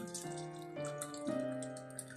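Green tea pours into a container for a homemade leave-in hair conditioner, a steady trickling stream whose pitch rises slightly as the vessel fills, quiet and close with no voices.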